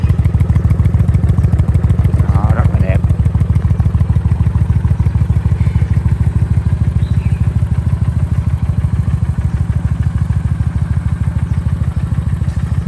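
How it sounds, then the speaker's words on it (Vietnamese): A 2015 Kawasaki Vulcan 900 V-twin motorcycle with about 13,000 km on it runs steadily and loud, its smooth, even idle pulsing close by without a break, with a brief clatter near the start. "Chạy ra nó ra tiếng máy êm và nó hay hơn rất là nhiều"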